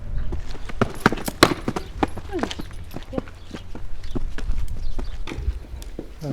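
A mare's hooves clip-clop nearby at a walk, giving sharp, uneven knocks over a steady outdoor background, with a few voices faintly in the mix.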